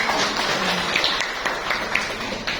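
A village gathering of community officials greets a new district head with applause: a dense, steady wash of clapping fills the room and continues throughout, mixed with faint tonal sounds and a little background noise.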